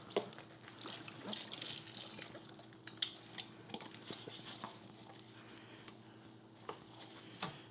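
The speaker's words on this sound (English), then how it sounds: "Got to do the dishes." Tap water runs into a kitchen sink during dishwashing, a soft steady trickle punctuated by scattered clinks and splashes of handled dishes, quiet and close with a faint hum beneath.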